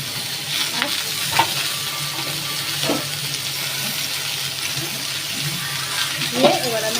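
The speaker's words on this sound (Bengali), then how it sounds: "এবার আমি এটাকে ভালো করে আরেকটু ভাজা করে নেব" Fish curry ingredients for a Bengali katla fish dish with cauliflower, potato and drumstick being fried and stirred in a pan, a steady close sizzle with occasional scraping stirs throughout, no talking.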